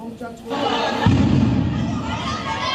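A loud, booming blast erupts into sustained rumbling noise, with a crowd shouting and chattering throughout.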